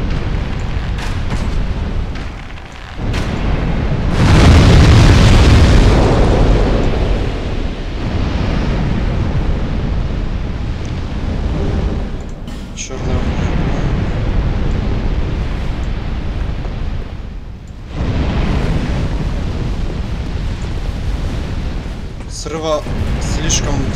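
Explosions in Dark Souls II: Scholar of the First Sin, a loud booming burst around the middle followed by rumbling blasts over a continuous roaring game soundscape.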